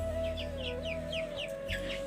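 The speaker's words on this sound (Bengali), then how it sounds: "আর আমার এখানে কালারবার্ড মুরগি আছে" Coloured-bird chickens kept as poultry give a steady run of quick, repeated clucking calls, close and clear over a constant low mechanical hum.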